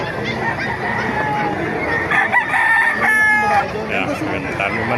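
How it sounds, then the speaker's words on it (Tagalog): Roosters crow and chickens cluck among many birds at the Bocaue pet market, close and busy, with someone talking over the fowl. "Ganda ng manok ni Kuya"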